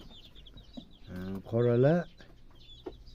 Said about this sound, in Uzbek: Aprel cho'jalari bular.